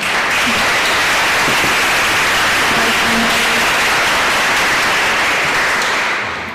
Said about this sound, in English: And please another applause for our panelists.